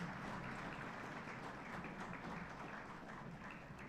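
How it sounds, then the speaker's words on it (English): A large crowd at a SAIL induction programme ceremony claps steadily and continuously, a dense wash of applause that stays even throughout without any talking. "We may have a big round of applause"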